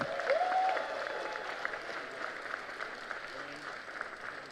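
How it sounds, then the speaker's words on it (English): Applause from an awards-ceremony audience, a sustained moderate-level round of clapping with a faint tonal whistle or cheer near the start, heard at a distance. "Please let me hear a resounding round of applause."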